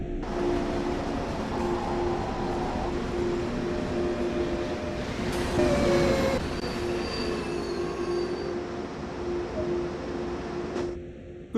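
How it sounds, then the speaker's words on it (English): Freight train rolling in Train Sim World on the Ruhr-Sieg Nord route, a steady loud rumble of wagons with a sustained tonal hum and faint wheel squeal while braking gently to a stop, no talking. "To bring this freight train to a safe stop, only a small amount of braking force is required."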